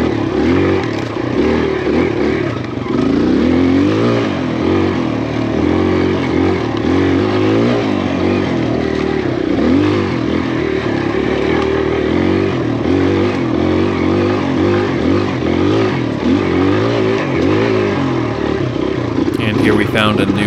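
A Honda XR100 four-stroke dirt bike engine running while riding a trail, a loud, steady buzzing drone with rising and falling revs that continues throughout, with a voice talking over it at times.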